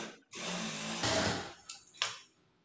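A sewing machine stitches blouse fabric in a single fast burst of about a second, followed by a couple of faint clicks and quiet, heard up close.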